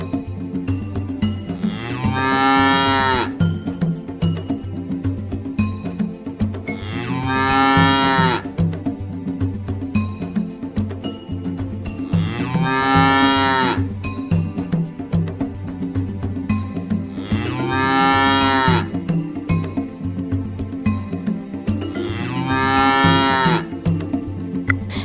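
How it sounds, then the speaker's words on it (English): A cartoon cow in a farm animals juice making video game gives long, loud, drawn-out moos, five of them at steady intervals of roughly five seconds, over a continuous background game music bed. "A cow says moo"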